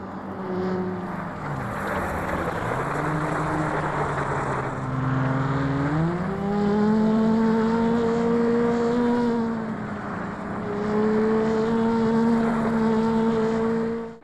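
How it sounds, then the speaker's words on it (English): A revving car engine in the video game Flatout 2 drones steadily, its pitch sliding up as it accelerates, loud and close with no voices. "the engine noise being way too low"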